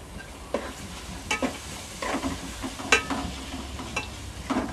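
Tomatoes and green chillies sautéing in a pan for mushroom biryani, with a continuous soft sizzle broken by repeated spoon scrapes and stirring strokes at close range.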